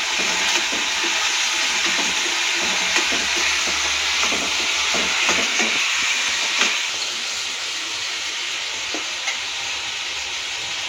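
Vegetables sauté in masala in a pan, giving a steady close hiss and sizzle with frequent soft scraping strokes and taps of a spoon stirring through the cooking, alone without voices.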